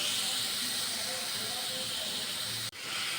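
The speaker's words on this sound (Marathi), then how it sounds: "कांदा पण आपण सोनेरी कलर येतोपर्यंत परतून घेऊया" Onion fries in a pan until golden, giving a steady close hiss that holds throughout and drops out briefly near the end.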